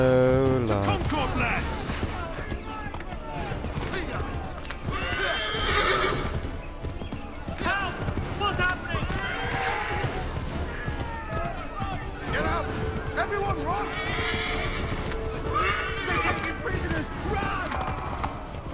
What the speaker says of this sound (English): Go run, freaking horse!